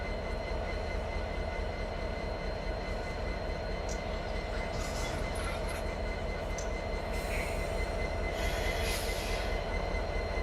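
A train in the Run 8 rail simulator pulls forward through a switching yard, a steady low rumble and hum of locomotive and railcars with faint wheel squeal and clanks, continuous and unbroken with no talk.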